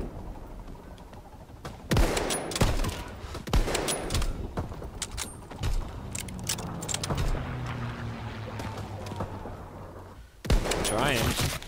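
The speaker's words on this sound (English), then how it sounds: "Taking heavy fire." Gunfire in a WWII video game battle, with sharp bursts and volleys of shots cracking out repeatedly across the whole stretch, loud and close, over a steady din of battle noise.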